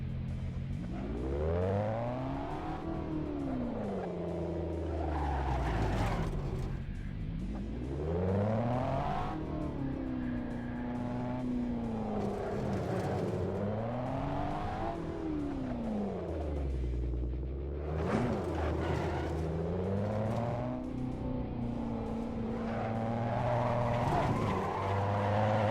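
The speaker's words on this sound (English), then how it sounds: "Now that, ladies and gentlemen, is La Ferrari." A LaFerrari driving at the Goodwood Festival of Speed VR game, its engine repeatedly revving up and down in long sweeping pitch swells, with tires squealing, loud and close throughout.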